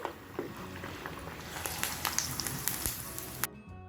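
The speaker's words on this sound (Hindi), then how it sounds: "तो ये तीसरा पापड़ भी मैं फुला रही हूँ तेल में।" Sabudana (sago) papad frying and puffing in hot oil, a dense crackling sizzle with scattered sharp pops, steady and close throughout before cutting off abruptly near the end.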